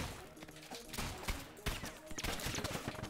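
Gunfire in the video game Rounds, a dense stream of rapid digital shots and impacts in a fast fighting match, layered and busy at moderate volume.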